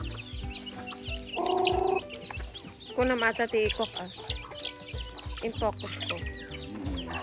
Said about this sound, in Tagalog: So ayun na sila yung ating mga pabo